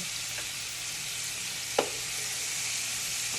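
Meat seasoned with adobo sizzles steadily in a hot frying pan, a close and constant hiss with one brief clatter partway through.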